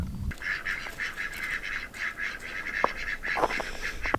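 Ducks quack repeatedly in a lively, uneven chorus of nasal calls, fairly close, with a couple of sharper honks mixed in.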